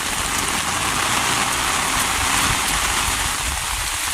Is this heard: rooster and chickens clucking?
no